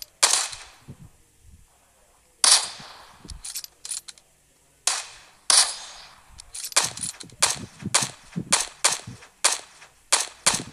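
Gunfire in the battle-royale game PUBG Mobile crackles in sharp bursts: a few isolated shots, then a second volley, and finally a rapid, steady string of loud, close reports with short gaps of quiet between groups.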